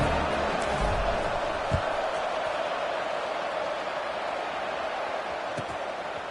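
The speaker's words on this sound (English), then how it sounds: "this crowd is buzzing after that last score" A football stadium crowd keeps up a steady, dense buzz throughout, a broad continuous roar with no distinct cheers rising above it.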